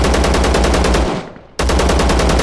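Automatic fire from an EC74 rifle in the video game Zero Sievert: a loud, rapid, steady burst of shots that stops for about half a second, then resumes at the same pace.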